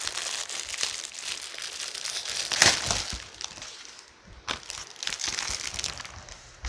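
A plastic bag holding a motorcycle seat cover being handled up close, giving irregular crinkling and rustling bursts with a few sharper crackles.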